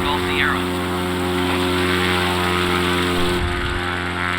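Cub Crafters X-Cub light airplane engine run-up before takeoff, a loud steady propeller drone with a brief chirp early on and a slight drop near the end, with people talking over it.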